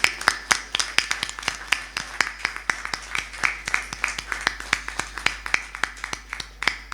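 A steady run of sharp handclaps, evenly spaced and crisp, close by, from a ghazal concert audience. Sounds like a small group clapping rather than a big crowd's roar.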